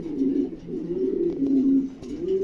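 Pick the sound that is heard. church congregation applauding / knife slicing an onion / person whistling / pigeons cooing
pigeons cooing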